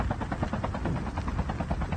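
A video game helicopter's rotor chops loudly and rhythmically at a fast, even beat with no voices over it.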